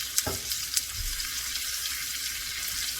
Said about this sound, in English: I'll flip it upside down and sideways just to get the sear going.